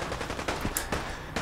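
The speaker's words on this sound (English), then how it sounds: "Oh god, gunfire! Gunfire! Go towards it!" Guards firing guns near Diamond City in Fallout 4, with a fast run of rapid shots in a dense, continuous volley at moderate distance, loud and without talking.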